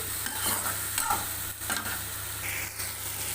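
Chopped ridge gourd sautéing in a pan for chutney, a constant sizzle broken by spatula stirring and scraping, close and moderately loud over a low background hum.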